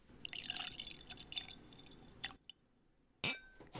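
Irish whiskey drips and trickles from the bottle neck after a hefty pour, a short wet patter followed by a silence and then a single bright clink of glass, close and quiet.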